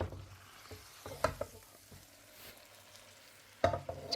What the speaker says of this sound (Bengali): এখন আমি এটা ভালো করে নাড়াচাড়া দিয়ে আমার অন্য চুলায় যে চালটা আমি ভেজে রাখছি ওটার সাথে এখন এটা মিশাই দেব